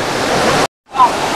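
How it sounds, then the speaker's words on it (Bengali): A fast, muddy monsoon stream rushes near Devkund Waterfall with a loud, steady roar close by. The sound cuts out for a moment and then returns. "দেখুন কত ঘোলা জল, আর জলের স্পিডটা দেখুন একবার, এইখান থেকে দেখুন আসছে জলটা"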